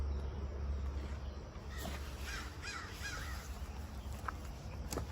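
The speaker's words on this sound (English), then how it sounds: "I hear some crows out here this morning." Crows caw several times at a distance outdoors on a summer morning, their calls rising over a steady low background rumble.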